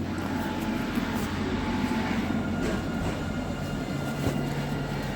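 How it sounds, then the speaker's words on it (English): A British Rail Class 158 diesel unit powering up at Nottingham station gives a loud, steady engine drone with a low hum throughout, close by and without speech. "I do love the 158s when they power up."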